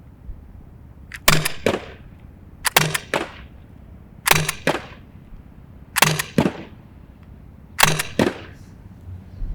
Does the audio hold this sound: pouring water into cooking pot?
no